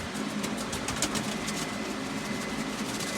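Pigeons kept indoors in a room make soft, low cooing that runs steadily through the clip under a constant hiss of background noise. No one talks.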